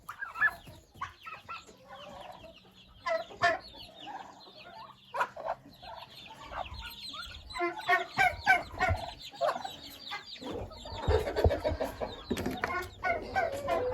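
Broiler chickens and other poultry cluck and squawk throughout a farmyard barn, many birds calling in overlapping bursts at close to mid distance, busier and louder toward the end.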